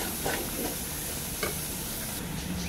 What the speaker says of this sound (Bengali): দই দিয়ে আবার এটাকে কষাবো।